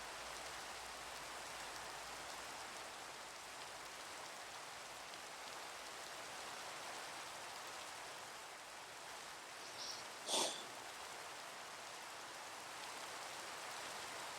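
Steady rain hiss from Minecraft weather fills the whole stretch, an even wash of falling drops with one brief louder burst near the end.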